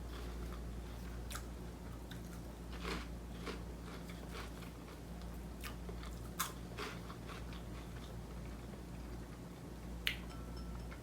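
Biting and chewing Flamin' Hot Cheetos Puffs, heard close up as quiet, sporadic crunchy bites and soft mastication over a low background hum.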